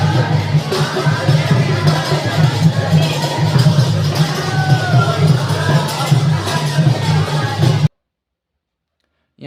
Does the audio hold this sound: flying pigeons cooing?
no